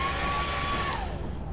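A hair dryer item in Lethal Company whirs as a steady, loud airy roar with a thin whine over it that drops in pitch near the end of the short burst.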